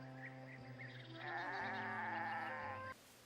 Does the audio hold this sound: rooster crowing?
no